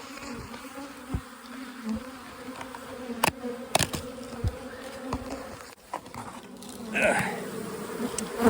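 Honeybees buzz in full hive boxes outdoors at the end of the season, a continuous close hum with individual bees zipping past loudly and a few sharp knocks.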